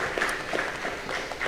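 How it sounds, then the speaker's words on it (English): Audience applause for a panel of Sydney content creators at a live talk event, a brief steady wash of clapping filling the whole moment with no speech over it. "Can we give a round of applause for our panelists?"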